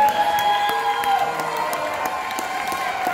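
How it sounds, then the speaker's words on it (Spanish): Wedding guests applaud and cheer for the bride and groom at a reception, with steady clapping, scattered whoops and shouts, and a sustained musical tone running beneath the crowd. "fuerte el aplauso para los novios, que se escuche, por favor"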